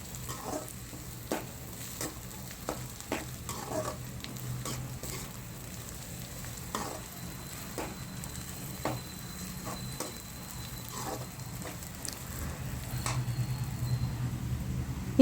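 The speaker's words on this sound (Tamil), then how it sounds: "இப்போ அந்த பூண்டு, இஞ்சி இதெல்லாமே எடுத்து அதோடு சேர்த்து நல்லா வதக்கி விடுங்க." Onions, garlic and ginger sautéing in a pan for a traditional chicken gravy, with a low steady sizzle and scattered clicks and scrapes of stirring throughout, fairly close and moderately quiet, with no talking.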